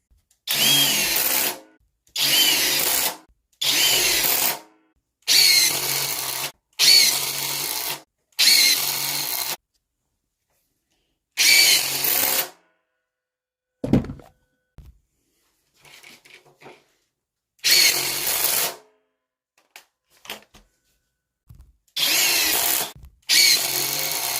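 Power drill boring with a 5/16 inch bit, a series of loud, even bursts of about a second each, separated by silence and trailing off into faint handling noises near the middle.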